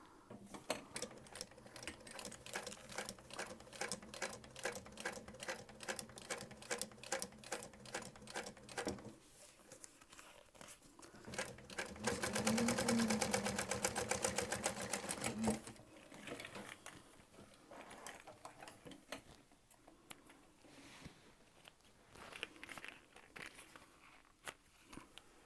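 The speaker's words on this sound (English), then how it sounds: "I'm going to top stitch all the way across." Sewing machine top stitching across a fabric waistpack, a rapid rhythmic needle chatter that runs steadily, speeds into a denser continuous whir in the middle, then slows and trails off into lighter intermittent stitching.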